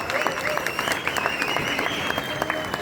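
Loud, steady applause from a large audience fills the whole stretch, dense clapping with a faint crowd murmur underneath.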